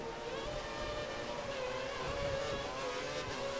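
A Toro Rosso Formula 1 car in F1 2013 accelerates in the rain, its high engine whine holding steady and loud for several seconds with no talk over it.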